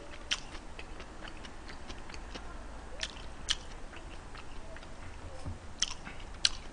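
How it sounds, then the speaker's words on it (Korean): Slow chewing of Korean home-cooked food, yukgaejang beef soup with ham kimchi and zucchini pancakes, comes as soft, sparse, wet clicks and bites close to the mic, with a faint background hum and no talking. "일부러 천천히 먹고 있어요"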